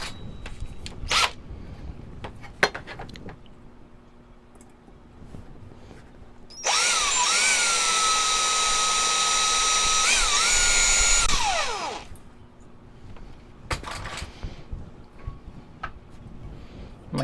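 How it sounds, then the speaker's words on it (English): A power drill bores into pieces of a broken ceramic sugar bowl for a windchime: a sustained high whine lasting several seconds between scattered clicks and handling knocks, no talk. "now we're going to drill"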